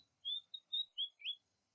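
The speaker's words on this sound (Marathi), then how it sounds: "त्याचं इंग्लिश नाव आहे फॅन्टेल फ्लायकॅचर" A small bird, a fantail flycatcher, gives a quick series of five high, thin chirping notes, clear and fairly close against a quiet background.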